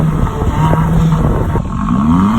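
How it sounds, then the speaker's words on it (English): Throaty exhaust note from a Hyundai Elantra Sport, close and loud, with a rising rev that climbs in pitch near the end of the short burst. "let me grab you that exhaust while I'm here."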